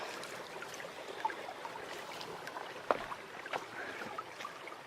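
A creek flows steadily beside a night hike in Dolly Sods, West Virginia, in the fall, a constant soft rush of water with a few faint clicks and taps on top.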